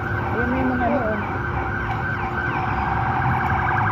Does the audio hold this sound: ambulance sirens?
yes